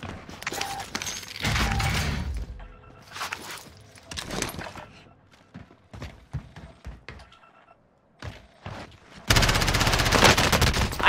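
MP7 submachine gun fire in Call of Duty Warzone on Rebirth Island comes as several rapid close bursts separated by short gaps, with one long loud final burst and faint footsteps and game sounds between them.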